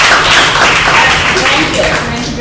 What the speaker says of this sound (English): Give Ms. Gaddison another hand.